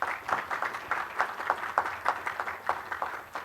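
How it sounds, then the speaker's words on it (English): A modest audience at a spiritual fair claps in a loose, fairly rhythmic patter, with fewer hands and distinct individual claps rather than a dense roar. "I think she needs a applause."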